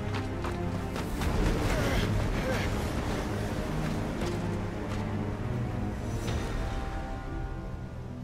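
Windy storm weather in Final Fantasy XVI: a steady, loud rush of wind with gusting hiss and low rumble filling the whole stretch, a faint voice murmuring underneath at moments.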